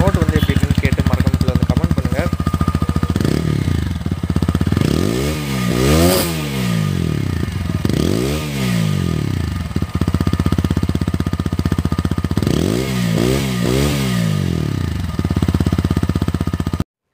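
TVS Apache RTR 160 4V motorcycle, a 2022 special edition with a single exhaust, loudly revved near the pipe in three or four rising and falling bursts over a steady idle, with no talking.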